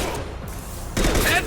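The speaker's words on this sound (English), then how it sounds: "Firing a high-impact shot!" High-impact sniper shot in Mass Effect 2 combat, a sudden loud crack that breaks in partway through over a busy battle background, with a short rough tail.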